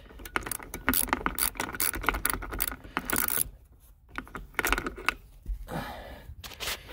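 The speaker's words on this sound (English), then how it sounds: "So I've got a 12 mil socket. So what we'll do is we'll loosen this up first." A ratchet with a 12 mm socket loosens a bolt on the emergency brake of a 1996–2000 Honda Civic, making rapid bursts of close, sharp clicking in several runs separated by short pauses.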